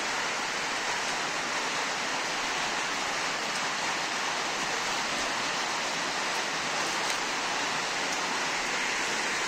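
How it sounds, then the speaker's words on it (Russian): Steady rain pours without pause, a dense broadband hiss that stays even throughout, with no voices. "Вчера, как вечером начался дождь, вот он так и продолжается."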